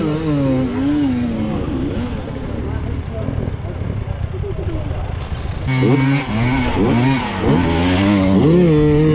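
A motorcycle engine revs loudly and pulls away, pitch rising and falling through gear changes, close by and dominating the clip.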